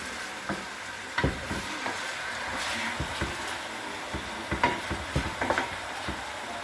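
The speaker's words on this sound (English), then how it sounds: "So we're frying the meat." Meat fries in a pot for Uzbek plov, giving a soft, continuous sizzle broken by intermittent scraping and clinking stirs, fairly quiet and without talk.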